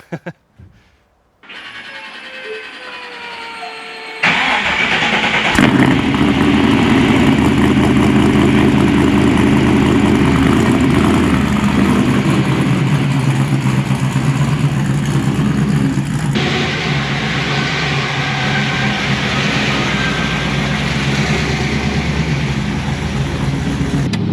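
A 1955 Chevrolet Bel Air V8 cranks and catches, then settles into a loud, steady idle before pulling away with a sustained rumbling engine note.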